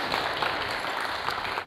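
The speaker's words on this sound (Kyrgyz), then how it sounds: "Кол чабуулар." Dense studio audience applause on a Kyrgyz family game show, steady and loud throughout, cutting off sharply at the end.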